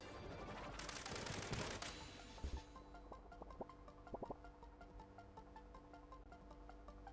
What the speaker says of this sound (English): Oh, it's like a minigun.